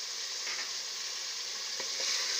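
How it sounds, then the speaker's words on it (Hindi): Beef frying with ginger, garlic and whole garam masala for nahari, a soft continuous sizzle with a couple of faint stirring taps, no talk. "और अब इसकी 10 मिनट के लिए हम भुनाई करेंगे।"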